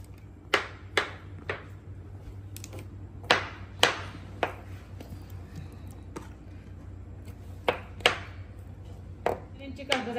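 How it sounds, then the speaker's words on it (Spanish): A kitchen knife chops canned peaches in syrup into cubes on a cutting board, a steady series of sharp close knocks about half a second to a second apart, with a low hum beneath. "yo lo voy a picar así, miren, en cuadros"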